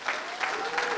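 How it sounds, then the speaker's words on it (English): A crowd at a live surf event gives a steady, dense round of applause for the whole moment, clapping close and even with no pause. "one last round of applause for Blakey."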